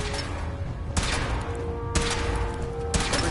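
Weapon fired during a test of a protective suit: three sharp, loud reports spaced about a second apart, each a broadband burst over a steady low hum with faint tonal whine.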